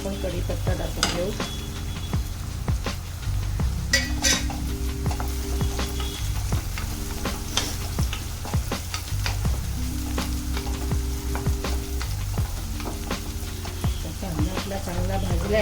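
Onion frying in a pan for a chickpea curry, a steady close sizzle with rhythmic stirring and scraping strokes throughout, with a faint background hum and no talking.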